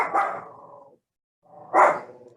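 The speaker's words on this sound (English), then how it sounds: "My dogs are really taking the show away." Dogs bark close by in two loud bursts separated by a brief quiet gap, with a rough growling edge to the second burst.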